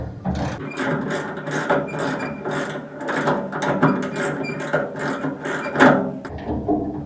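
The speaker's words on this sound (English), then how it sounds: "We have our 10mm socket, and so we're going to undo these bolts, which will release the latch assembly." 10mm socket ratchet loosening the tailgate latch bolts on a 1988 Ford F-150, rapid close clicking and ticking in uneven bursts with metallic rattles.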